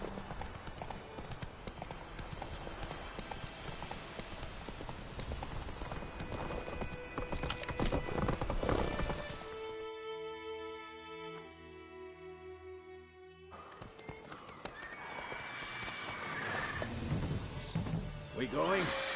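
Horse hooves clip-clopping at a gallop in The Witcher 3 game world, a steady rhythmic beat under music, with a brief whinny and voices talking over parts of it.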